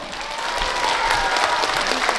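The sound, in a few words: audience applause and cheering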